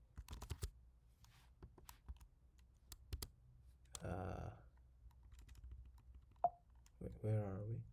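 Quick bursts of clicky keystrokes on a computer keyboard, close and fairly quiet, come in short runs at the start and then sparsely, with a person talking briefly in between.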